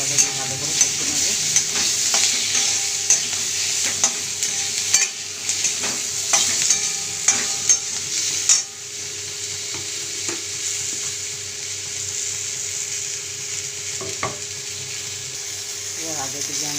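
Masala of turmeric, chilli powder and a chopped green chilli is stir-fried in a pan, giving a steady close sizzle with repeated spoon scrapes and stirring knocks throughout.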